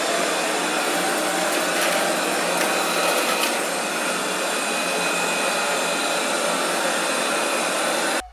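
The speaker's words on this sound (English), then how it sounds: "There is also a standard and powerful suction mode with 44 and 49 dB" An Ultenic D5S Pro robot vacuum cleaner runs in powerful suction mode with a loud, steady broadband whoosh, unbroken for several seconds before it stops abruptly.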